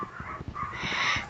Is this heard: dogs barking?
yes